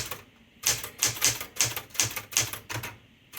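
Keys striking on a blue vintage Smith-Corona Galaxie Twelve manual typewriter, about eight sharp clacks in an uneven rhythm, close and clear with no talking.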